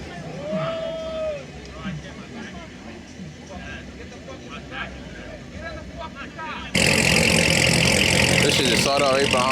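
A car engine starts at a car meet and settles into a loud, steady idle close by, after a stretch of nearby talking.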